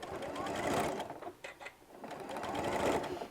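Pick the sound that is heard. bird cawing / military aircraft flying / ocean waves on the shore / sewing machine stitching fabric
sewing machine stitching fabric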